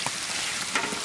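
Spice paste of cumin, ginger, green chilli, salt and turmeric frying in a pan for a Bengali mutton curry, a dense close sizzle with a couple of brief stirring scrapes, no voices.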